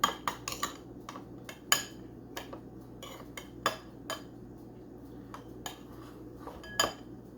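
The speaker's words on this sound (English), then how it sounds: "Let me use this here spoon to kind of spread it out a bit." A metal spoon spreads Sweet Baby Ray's sauce around a bowl, giving scattered sharp clinks and taps against the dish at an irregular pace, close and clear in an otherwise quiet room.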